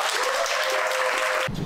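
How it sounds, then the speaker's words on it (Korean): Crowd applause for two players after a one-on-one basketball match, a dense, even burst of clapping that cuts off abruptly near the end as a voice begins. "고생해준 두 선수에게 박수 한번 부탁드리겠습니다."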